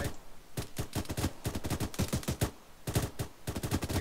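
Rapid bursts of gunfire in the military video game ArmA 3, with automatic weapons firing in repeated volleys and short gaps between them. The shots are loud and sharp, and no voices are heard.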